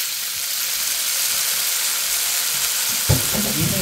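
Chicken stir-frying in olive oil for Pad Thai, a dense steady sizzle close up, with a scrape of stirring near the end.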